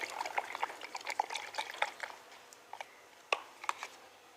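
Soaked groundnut cake is mixed into a litre of water to make curry leaf plant fertiliser, giving faint, intermittent sloshing and small wet clinks at close range.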